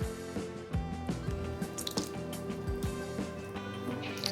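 Buttermilk poured into a mixing bowl holding eggs, giving a soft, wet, dripping liquid splash close to the mic with small squishy spatters over a few seconds, no talking.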